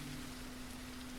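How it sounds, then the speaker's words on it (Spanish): Calm synthetic rain from the Ultra Dynamic Sky system in Unreal Engine 5 hisses as a soft, even wash of falling drops, faint and steady with a low hum beneath, without speech. "Podemos notar que ha cambiado el sonido de la lluvia a una lluvia mucho más calmada"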